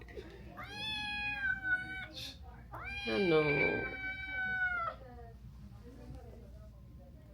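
A pet cat meows loudly and repeatedly in a home, long drawn-out cries rising and falling, alternating with brief human speech nearby.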